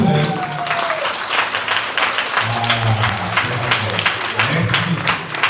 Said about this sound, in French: sous vos chaleureux applaudissements